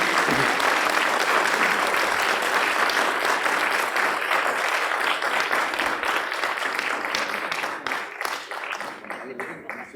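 An auditorium audience at a talk on Hindi in cinema, technology and theatre breaks into sustained, dense applause that stays loud and slowly thins out over ten seconds.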